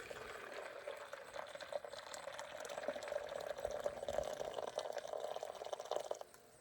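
Water poured into a bucket to measure a liter for a lanolin deer repellent, a steady gurgling trickle with a slight rise in level, fairly faint and close, fading out at the end.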